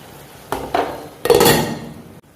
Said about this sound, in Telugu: ఇలా వేసుకొని ఒకసారి కలిపేసి మళ్ళీ మూత పెట్టేసుకోవాలి